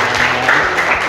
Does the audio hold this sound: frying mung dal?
no